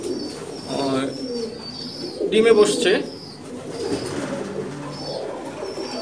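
Fancy pigeons in a pigeon loft coo in low rolling bursts, one louder close coo in the middle, while someone speaks briefly nearby.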